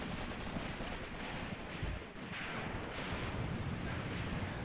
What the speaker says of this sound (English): That might be mortars from our heavy weapons company.